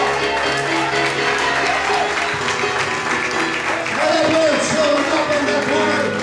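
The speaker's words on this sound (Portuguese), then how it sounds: "Aplauda o Senhor." A church congregation applauds steadily during an evening worship service, dense clapping filling the room throughout with voices mixed in.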